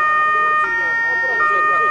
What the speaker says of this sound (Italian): Le sirene dei mezzi hanno suggellato il momento di devozione alla Madonna della Neve